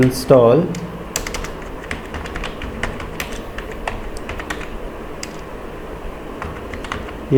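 Commands are typed on a computer keyboard during an AWS setup. Close, quick, irregular key clicks run throughout, and a brief voice is heard at the start.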